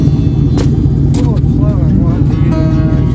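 A pickup truck engine revs and rumbles loud and close at a lakeside, running steadily with a heavy low drone while people talk over it.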